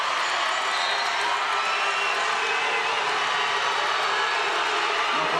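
A packed gym crowd at a USC Aiken versus Augusta men's college basketball game roars after a foul call, a dense, loud, unbroken wash of voices and cheering that holds steady throughout.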